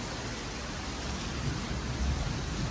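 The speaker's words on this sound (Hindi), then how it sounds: "ये देखें आप बारिश देखें कितनी पड़ी है माशाल्लाह" Heavy monsoon rain pouring down outside a room that is leaking water, a dense, steady wash of noise with no breaks, close and fairly loud, no speech heard.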